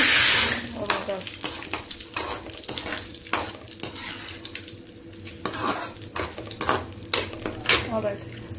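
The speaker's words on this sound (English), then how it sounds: "So stir it." A wide tooth spoon stirring curry in a metal pan, with repeated scrapes and clinks in an irregular rhythm over a faint sizzle, loud and close, with a little talk now and then.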